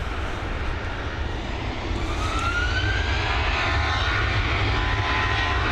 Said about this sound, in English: Here we go, FR122 heading over to London Gatwick, this Boeing 737.